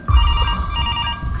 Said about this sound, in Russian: Телефон, кто-то звонит.